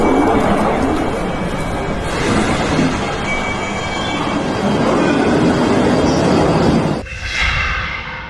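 A train rumbles and rattles loudly nearby at a station, wheels grinding and squealing, then the noise shifts abruptly as it speeds away.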